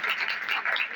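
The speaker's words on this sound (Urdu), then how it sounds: "زوردار تالیاں پاتے ہیں." Church congregation at a Sunday service clapping loudly and continuously, a dense steady wash of many hands close around, with no talk over it.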